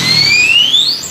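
A Vinix alarm fitted to a Honda CBR 150 R motorcycle sounds loud and close, two piercing electronic tones sweeping upward together in a short siren-like rise.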